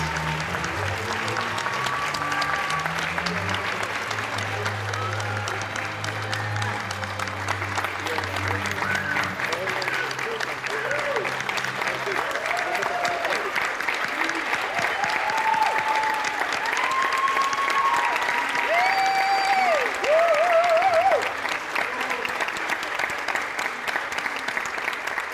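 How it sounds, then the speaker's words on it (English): An audience applauds award winners at a superintendent leadership awards event, with sustained, dense clapping throughout and a low murmur and faint tonal sounds underneath. "let's give all our winners a round of applause"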